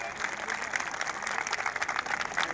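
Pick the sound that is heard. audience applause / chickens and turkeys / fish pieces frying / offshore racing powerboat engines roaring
audience applause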